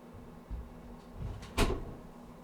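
A door thuds shut once, a single firm knock of impact standing out from a quiet room with a low hum.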